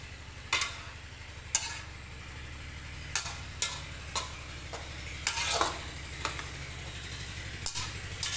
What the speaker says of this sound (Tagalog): Let it simmer, then mix.